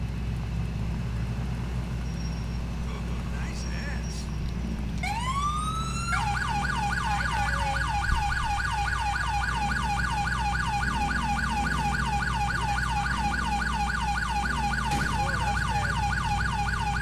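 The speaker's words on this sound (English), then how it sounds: "Do you not hear my freaking sirens or what?" A police car siren in the game GTA IV, from an unmarked 2011 Tahoe, winds up and then wails in a fast, steady, loud repeating yelp over a low engine rumble, with no talk.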